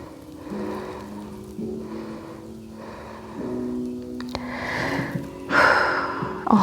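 Slow, audible breaths during a yoga stretch into a forward fold over the right leg, soft and close, growing into a louder, rushing exhalation toward the end.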